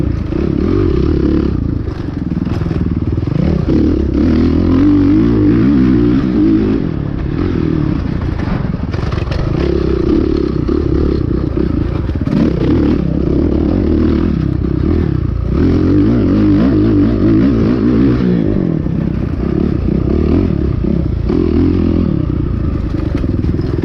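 A 450 dirt bike racing in a cross-country GP, a loud, constant engine drone that rises and falls with throttle changes, heard close with rattles and thumps from rough terrain.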